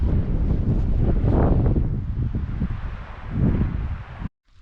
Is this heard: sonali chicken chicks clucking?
no